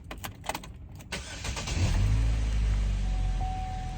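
A Jeep SRT starts after a few clicks and key rattles, the engine catching with a loud rising roar and then settling into a deep, steady idle close by.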